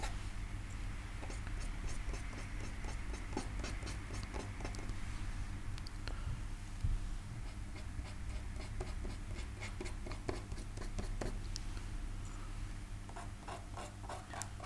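A wipe-away tool dabs and scrapes masking fluid onto watercolour paper to mark grasses along a stream bank, giving soft, irregular scratchy taps and strokes up close over a steady low hum, with no one talking.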